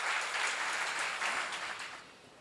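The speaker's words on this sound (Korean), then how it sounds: "그렇게 생각하는 사람만 박수 한번 쳐봐요." An audience at a church seminar claps together, a dense burst of applause that holds steady, then begins to fade near the end.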